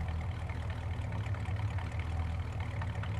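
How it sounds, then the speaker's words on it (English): A small pickup truck's engine idles steadily in Farming Simulator 19, a low continuous rumble holding close and even throughout with no talk over it. "Love the way this truck sounds."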